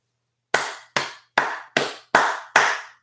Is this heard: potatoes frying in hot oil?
no